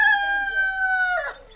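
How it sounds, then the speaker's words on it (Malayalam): A rooster gives a single long, loud crow close by on a morning, the call holding steady before breaking off near the end; no voices. "കോഴി കൂക്കി രാവിലെ ആയിന്ന് പറഞ്ഞ പോലെ"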